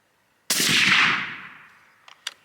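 A single suppressed rifle shot fired from a bipod, a sharp muffled report that decays over about a second, followed by a couple of faint clicks.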